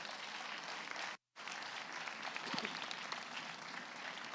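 Church congregation giving a strong round of applause, many hands clapping in a full, continuous wash with a brief cut to silence early on, then resuming with scattered voices and shouts.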